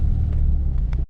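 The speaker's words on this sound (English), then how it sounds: "There's that BMW again." A BMW rumbles past at close range, a steady low engine roar with wind noise, fading out abruptly at the end.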